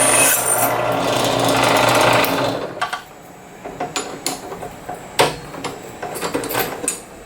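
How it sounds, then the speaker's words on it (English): A drill bores holes into a MacroPot enclosure, with a steady grinding whir for a few seconds, then a run of short, sharp scraping bursts as the bit bites in and stops, close by and loud. "And now let's drill first smaller holes and then do bigger."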